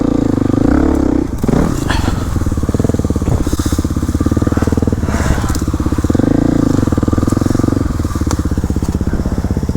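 Dirt bikes rumble and rev along a local trail on an enduro ride, a loud, close, continuous engine drone with throttle swells and gravelly crackle.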